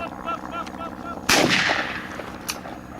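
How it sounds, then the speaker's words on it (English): A single loud gunshot cracks out partway through bird dog training with a frozen bird, outdoors, with faint bird chirps before it and the report trailing off afterward. "It's a frozen bird and a single gunshot here."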